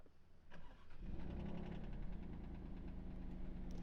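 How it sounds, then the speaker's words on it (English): A 2017 Alfa Romeo Giulia Quadrifoglio starts with a brief starter whir, then its engine catches and settles into a loud, steady close-up idle for the remaining few seconds. "let's go ahead and hit the start stop button and fire this thing up."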